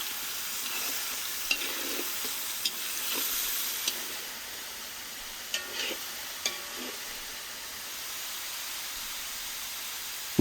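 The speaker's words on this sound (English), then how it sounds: "Adding the onions, allowing them to soften and infuse along with their natural sweetness." Onions frying for an Eastern pilaf, a soft continuous sizzle and hiss with several sharp stirring scrapes and clicks of a utensil against the pot, no voices.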